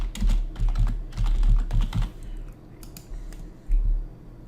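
Someone types on a computer keyboard in bursts of quick close key clicks, then a few scattered taps and a final thump, with no talk.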